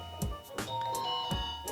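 Accfly wireless video doorbell ringing, a short sequence of bright electronic chime tones with a few soft knocks or taps underneath, close and clear over about two seconds.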